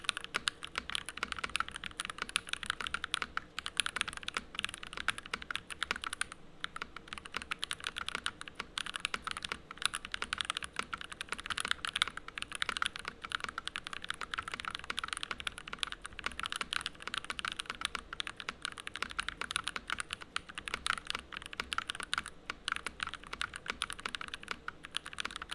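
Continuous typing on a computer keyboard, a fast, steady patter of key clicks close to the microphone for the whole stretch, with no voices.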